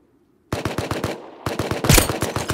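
Rapid automatic gunfire in a video game raid, dense bursts of sharp repeated shots up close, with a brief lull before a second heavier volley.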